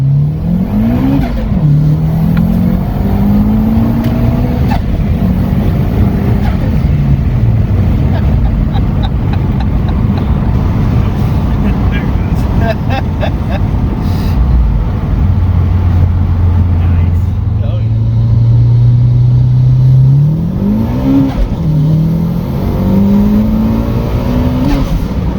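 A turbocharged B16 1992–95 Honda Civic out on a test drive, engine loud and close as it revs and accelerates through repeated rising pulls, with people talking over it.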